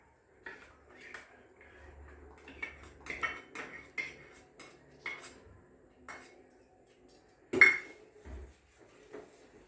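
A spoon stirs custard powder into vermicelli kheer in a metal pot, producing a string of sharp clinks and scrapes at an uneven rhythm, close and fairly clear, with one louder knock partway through.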